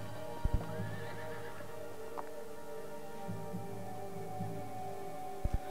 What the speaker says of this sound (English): the sound of a horse in the distance